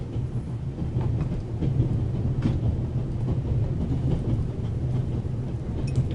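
Steady low rumble of a moving train carriage in The Raven Remastered game, a continuous rolling drone with faint rhythmic clatter throughout, no voices.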